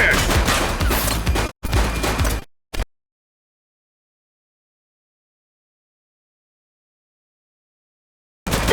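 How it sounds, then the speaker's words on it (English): Gunfire in The Precinct video game, two dense bursts of rapid shots followed by a single short crack, then a long silence before another loud burst at the end. "He's shooting!"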